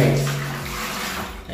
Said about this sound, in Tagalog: kukuha na tayong tubig, mabasahin lang natin ng tubig yan guys.